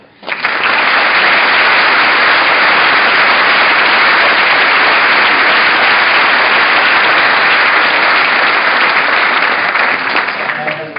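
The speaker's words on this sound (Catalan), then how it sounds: "primer de tot demanaria doncs, un aplaudiment" An audience claps at the Assemblea Nacional Catalana presentation in Tarragona: loud, steady, close applause that starts abruptly and holds at an even, thick level for about ten seconds before easing slightly at the end.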